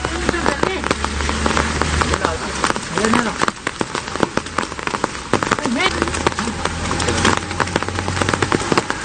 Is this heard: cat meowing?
no